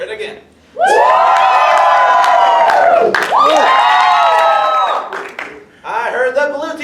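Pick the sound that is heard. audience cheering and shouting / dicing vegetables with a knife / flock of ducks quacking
audience cheering and shouting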